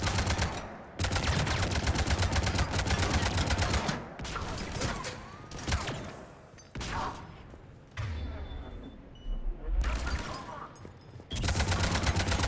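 Rapid automatic gunfire from a firefight in the video game Mass Effect 3, with loud sustained bursts broken by brief pauses and thuds, the volleys returning repeatedly at close range.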